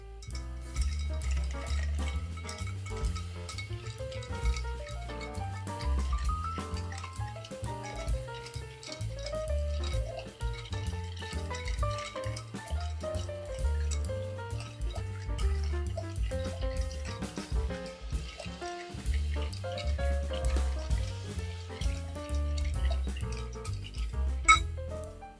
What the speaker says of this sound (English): So the stirring with the ice will dilute it somewhat